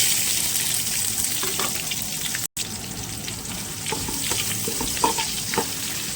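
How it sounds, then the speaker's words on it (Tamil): Onions frying with mustard seeds and curry leaves in hot oil, a loud continuous crackling sizzle close up with occasional stirring taps and a brief gap partway through, no speech. "கருவேப்பிலை பொரிஞ்சிருச்சு, வெங்காயம் சேர்த்துக்கலாம்."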